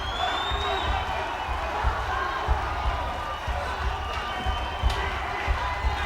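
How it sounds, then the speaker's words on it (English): At a boxing match between David Bostice and Al Cole, an arena crowd roars and cheers in a dense, continuous wash, loud and steady with occasional louder swells. "The crowd is getting excited. Cheering them on."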